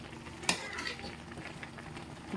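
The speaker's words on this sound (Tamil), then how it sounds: "கொஞ்சம் லைட்டாக கிளறி விடுவோம்." A utensil stirs milk boiling and reducing in a pan for carrot halwa, with a sharp scrape or clink early on, then soft low scraping and bubbling, close and alone without talk.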